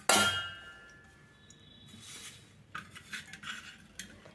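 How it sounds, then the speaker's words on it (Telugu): Leftover cooked rice is scooped into a bowl, with a sharp metal clank at the start followed by scattered clinks and scraping of utensils against dishes, close and moderately loud. "ఇప్పుడు దీన్ని ఒక బౌల్లోకి తీసుకుందాము"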